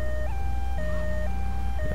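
An ambulance siren from GTA 3 wails close and steady, stepping repeatedly between two pitches over a low engine rumble for about two seconds.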